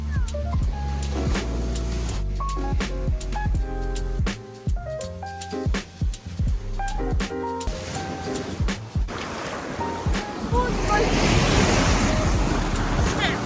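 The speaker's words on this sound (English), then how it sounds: "But today, we got waves." Ocean waves surge and crash steadily at Thorpeness, building into a loud, rushing wash of surf with wind noise across the microphone.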